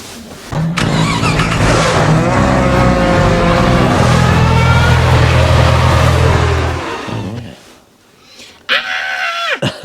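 A classic Bedford vehicle pulls away, its engine droning loud and close with rising tones as it accelerates, then dropping off before a voice cuts in near the end.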